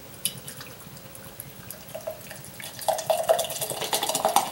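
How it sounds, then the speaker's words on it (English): Tecate Original lager is poured vigorously into a glass, splashing and fizzing faintly at first and then growing louder and busier toward the end, with no voices. "Pour it vigorously. Get some head on that thing."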